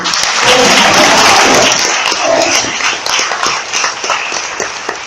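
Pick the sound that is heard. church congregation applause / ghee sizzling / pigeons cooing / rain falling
church congregation applause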